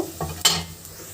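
Onions sizzle in a hot pan for Bangla-style dal while a utensil scrapes and stirs them, a short close burst of frying hiss with a sharp metallic clink midway.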